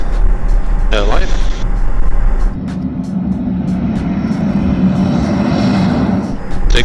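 An Extra 500 pressurised turboprop engine drones loudly and steadily during the takeoff roll, its tone shifting into a deeper, rising roar partway through, with a voice speaking over it.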